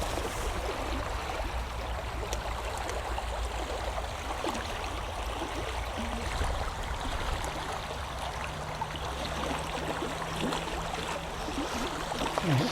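A fast-flowing stream riffle rushes and burbles in a steady, close wash of water, with no voices present.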